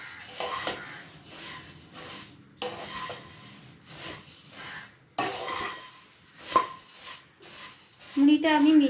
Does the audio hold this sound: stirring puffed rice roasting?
yes